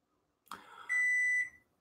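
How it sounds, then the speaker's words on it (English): A kitchen timer sounds one sustained electronic beep, close and clear, just after a brief soft click or knock in a quiet kitchen. "My timer's going off."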